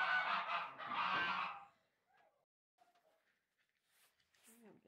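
Geese on a farm honk loudly in two harsh bursts, then go mostly quiet apart from a few faint calls and brief speech near the end.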